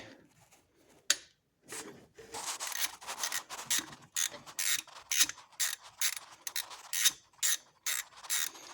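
T40 ratchet ratcheting to remove the belt idler pulley bolt on a Land Rover LR2 (Freelander 2) 3.2L engine, with repeated close, loud bursts of rapid clicking separated by brief pauses.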